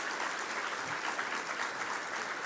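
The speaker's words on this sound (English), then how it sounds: "So a round of applause to everyone who helped the student getting to where it is." An audience at a medical school Match Day ceremony applauds, a dense continuous clatter of many hands clapping in a hall, steady and fairly loud throughout without speech.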